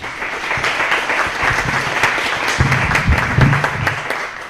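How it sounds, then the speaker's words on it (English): An audience at a WordCamp Phoenix 2014 conference talk gives a dense round of clapping that continues steadily throughout, with no speech over it. "let's give them one more round of applause"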